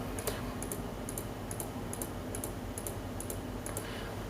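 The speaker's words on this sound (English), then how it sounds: "I will click on these links." A computer mouse clicks repeatedly while links on an online form are selected, a regular series of small, sharp double clicks about twice a second, close and crisp over a steady background hum, with no talking.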